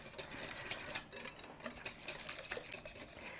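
Hand whisking of a thin, pancake-like popover batter in a bowl, a steady quiet scraping and stirring with small clinks, continuous throughout with no talking.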